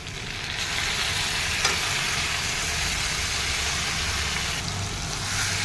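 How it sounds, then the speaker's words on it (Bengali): Vegetables with turmeric and salt frying in a pan, a steady loud sizzle with stirring running throughout, no voices. "দেখো আমার সবজিটা লাল করে ভাজা লেছি"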